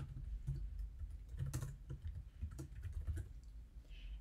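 Code being typed on a computer keyboard, a quick irregular patter of close, crisp key clicks that runs steadily for a few seconds with no voices.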